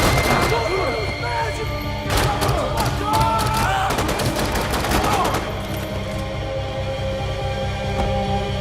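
Bursts of rapid gunfire from the video game Max Payne 3 crackle and pop over a steady low hum, clustered in the first half, with faint talk mixed in underneath.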